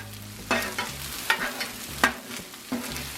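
Jambalaya frying on a Blackstone griddle while a metal spatula chops and stirs it, several sharp scraping clacks in an uneven rhythm over a steady close sizzle, with no talking.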